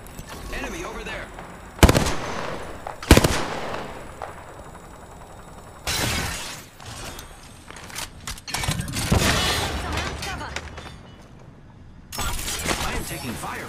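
Gunfire in Apex Legends, with several loud, sharp bursts of shots at irregular intervals and some sustained volleys, set against quieter stretches of game noise and occasional voices.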